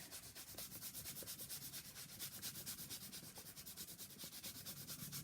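Coarse sandpaper rubs back and forth over painted furniture in quick, even strokes, a rhythmic rasping scrape that repeats steadily and sounds close.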